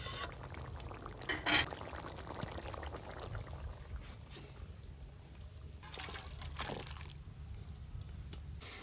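Cooked fish curry poured out of a pan, made with a 1.5 kg fish from a home pond, giving soft wet pouring and trickling sounds with a brief louder splash early on.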